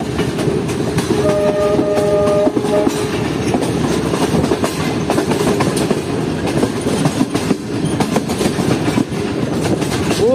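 A privatized rail car train on the Lahore to Rawalpindi line runs loudly and steadily with a continuous rumble and rhythmic rail clatter, a short horn blast sounding early on.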